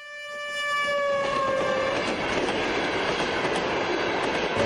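A train horn sounds briefly, then a train rumbles steadily past on the tracks, loud and close, with clattering wheels.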